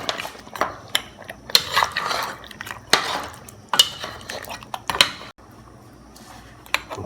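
A spoon scrapes and clinks against a pot while oxtail is stirred with browning sauce, making separate sharp knocks and scraping strokes spaced a second or so apart, close to the microphone.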